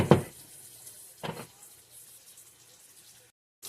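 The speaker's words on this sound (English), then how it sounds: "we're running our water super hot because we don't want to clog our drain" Hot water from a kitchen tap splashing into a sink while draining ground beef, a couple of short bursts of gushing then a soft trickle before cutting off.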